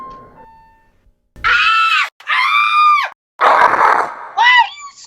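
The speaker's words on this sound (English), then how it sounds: "Why are you screaming?" Several loud, drawn-out screams in quick succession, harsh and close, separated by brief gaps, with no other sound around them.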